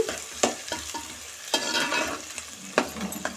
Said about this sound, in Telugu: ఇప్పుడు బాగా కలుపుకోండి